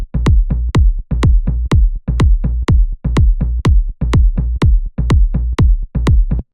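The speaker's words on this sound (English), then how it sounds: "we also have this tom pattern, which is very common in this deep Afro style" An Afro house groove of a deep kick drum with a tom pattern, steady punchy hits repeating in a tight loop, loud and dry with no voices.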